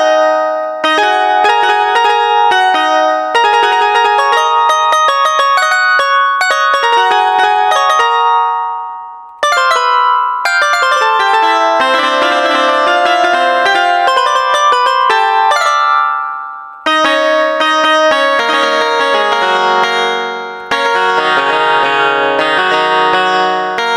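A bright plucked bulbul tarang banjo sample library, played from a computer keyboard, plays rapid melodic runs and chords, with continuous twangy notes in three phrases separated by short pauses.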